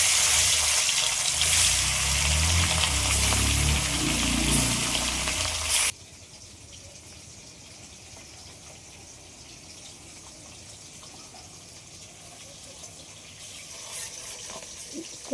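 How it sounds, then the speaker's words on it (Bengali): Running tap water gushes loudly while a taro stem is washed, then cuts off abruptly, leaving a quiet room tone with a faint knock at the end. "কচুর এই গোড়ার দিক থেকে কিছুটা কেটে নিয়েছি, নিয়ে ভালো করে পরিষ্কার করে ধুয়ে নিয়েছি"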